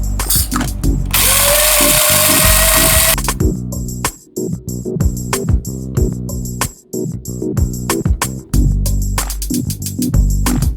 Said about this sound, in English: let's grind some of this up